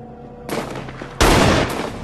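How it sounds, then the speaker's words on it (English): Bursts of gunfire in the VR game Saints and Sinners: Retribution, first a rattling volley, then a louder, denser burst that continues and tapers over the final second. "Gunfire."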